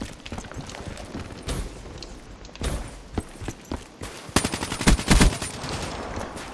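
Rapid bursts of automatic gunfire and single shots crack through a Black Ops 3 firefight, uneven in rhythm, with a dense loud cluster of shots toward the end over continuous game ambience.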